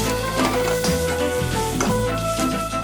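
Two cups of minced onions sizzle in leftover sausage fat in a pan, a steady close frying hiss with faint stirring taps and music underneath.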